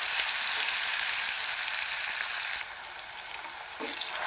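Ground masala spice paste fries on a low flame for a masala soybean dish, giving a dense, continuous sizzle that softens briefly partway through before a stir brings the crackle back.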